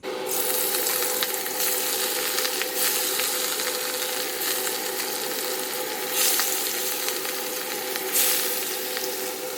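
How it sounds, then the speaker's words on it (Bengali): Katla fish sizzles steadily in hot oil in a wok, a dense continuous crackle and hiss with small bursts of spitting throughout, close and fairly loud, with no talking. "মাছ ভাজা হয়ে গেছে"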